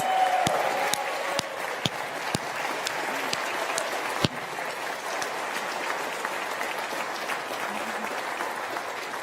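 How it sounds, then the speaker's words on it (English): An audience at an AMD Ryzen keynote applauds for Renee, with dense, sustained clapping from a large crowd. A few louder claps stand out near the start, and the applause holds steady throughout. "How about a great round of applause for Renee?"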